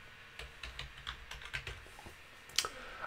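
Computer keyboard keys tapped while entering a password during a Peppermint OS installation, a sparse run of about a dozen soft, close clicks with uneven gaps and one sharper keystroke near the end.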